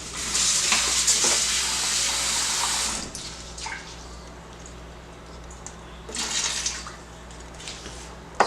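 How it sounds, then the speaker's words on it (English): Water poured from a tap into a pot of rice for a Thai-influenced coconut rice, a steady close splashing stream for about three seconds, then quiet, then a second shorter pour. "Just want to put small water in the rice."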